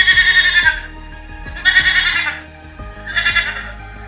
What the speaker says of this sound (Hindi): A goat is a small animal.